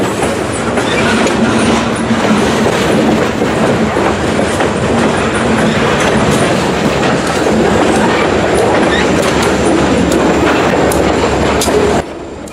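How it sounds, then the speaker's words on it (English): A long Ohio Central freight train with diesel locomotives, including an SD40-2, rumbles past nearby, wheels clattering steadily over the rails with a constant heavy roar throughout. "Following close behind in the middle of the train was Ohio Central 3339"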